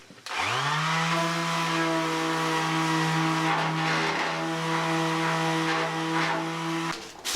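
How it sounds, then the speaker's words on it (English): An angle grinder spins up and runs continuously shaping body filler on a Daihatsu Charade's panels, with a loud, steady high whine and harsh grinding hiss, then winds down at the end. "I even got into a bit of sculpting with the angle grinder."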